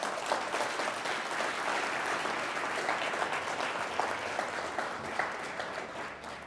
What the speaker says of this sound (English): So I just want to give them acknowledgement and a round of applause.